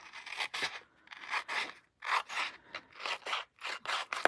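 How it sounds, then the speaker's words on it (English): Scissors trim the outer edge of a paper envelope in a run of close, crisp snips and scrapes, with short pauses between cuts. "And then I'll just trim away"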